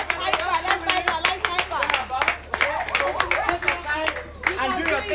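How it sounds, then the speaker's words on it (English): A school audience claps for a student speaker at a debate competition, with steady, fairly loud clapping over a low hum while voices and children's chatter carry on underneath. "let's clap for her"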